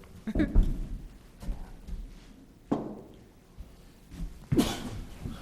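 A few sharp, explosive sneezes ring out over a quiet council meeting room, spaced a couple of seconds apart, with faint murmuring in between.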